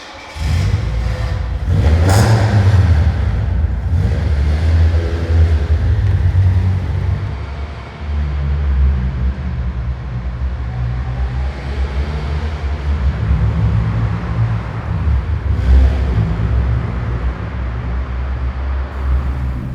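A Toyota Corolla FXGT engine drones steadily while driving around town, with road and engine rumble throughout and a brief drop in level partway before it picks back up.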